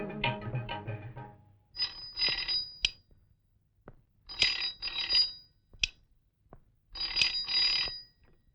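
A telephone rings in repeated double bursts with short gaps between them. The bell is bright and close, and a brief burst of other sound comes before it.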